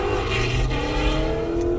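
A loud car revs as it passes by close, its engine roar swelling briefly and steadily with a low rumble, heard on its own without any talking.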